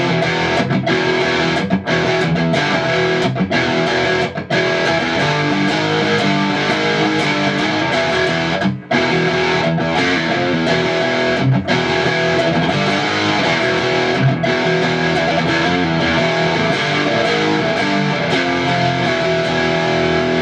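A Fender Strat electric guitar played through an amp's distortion channel, dense, gritty and loud, with sustained chords and brief stops between strummed passages.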